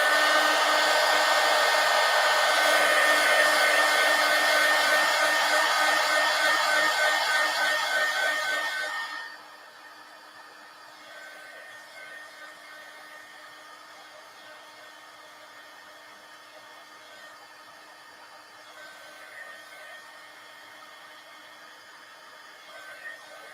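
A hair dryer blows on a glued collage page in a desk journal, roaring loud and close for about nine seconds, then cutting to a faint low hum that trails on.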